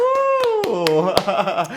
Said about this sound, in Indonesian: Boleh dong tepuk tangan